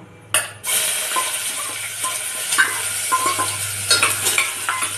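Onion tossed into hot oil with whole spices for masale bhat, a sudden loud burst of sizzling that settles into a continuous close fry, with occasional spatula scrapes and stirring clatter.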